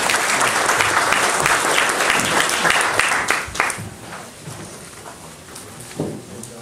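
Large audience at a Gyeongbuk disabled sports association policy workshop gives big, dense applause for honored vice presidents, loud and steady before fading into scattered claps and room noise.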